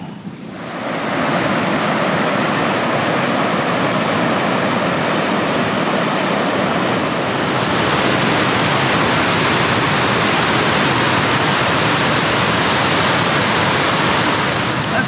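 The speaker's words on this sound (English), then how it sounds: "there's a whole bunch of water pouring off the cliff face there as well" Heavy waterfall pouring off a cliff face after heavy rain in Sydney's Northern Beaches, a loud, steady roar of rushing water that fills the whole clip with no talk.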